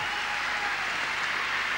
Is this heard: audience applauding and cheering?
yes